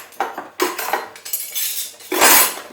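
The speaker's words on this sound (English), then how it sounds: "I'll find myself a tablespoon." Metal cutlery rattling and clinking in a kitchen drawer as someone rummages for a tablespoon while baking an apple and rhubarb pie, a busy jangle of bright clatters and scrapes that swells to a louder jumble near the end.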